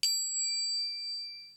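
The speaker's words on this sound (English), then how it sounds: "It is actually a mini singing bowl." A mini singing bowl struck once, giving a sharp metallic strike followed by a clear, steady bell-like ring that sustains and slowly fades, heard alone.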